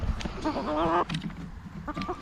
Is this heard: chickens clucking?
yes